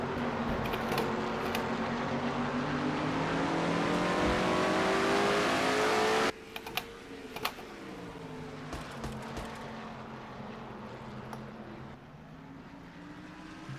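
Engines of stock cars in a NASCAR racing video game roar loudly at high revs, a dense sustained whine that drops abruptly halfway through to a lower rumble as other cars pass and fade.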